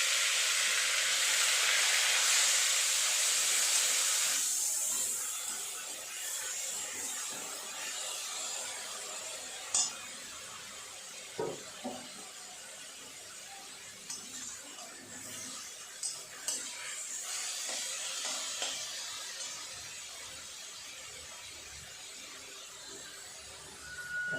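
Grated onion paste hits hot spiced oil in a home kitchen, setting off a loud broad hiss that settles into a steady sizzle, with a few soft clicks and scrapes on top.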